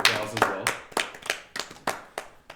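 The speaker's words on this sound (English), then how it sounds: "The entire tavern erupts into applause as well." Tavern patrons applaud after a drow bard and companion finish their songs, heard as a handful of distinct, irregular hand claps, fairly close and sparse rather than a full roar.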